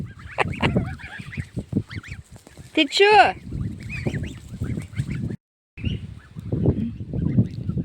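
Geese honking, with a loud, harsh burst of honks standing out midway while people talk close by.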